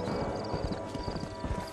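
In the Red Dead Redemption video game, a horse's hooves pound out a quick, regular clip-clop rhythm on the ground, fairly close and clear against a soft background hum.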